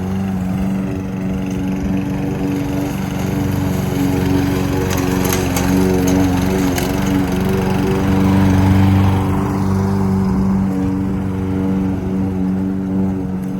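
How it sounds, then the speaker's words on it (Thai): A lawn mower cuts grass outdoors on a clear, sunny day, its engine droning loud and steady from start to finish with no talking. "ถึงตัดหญ้า"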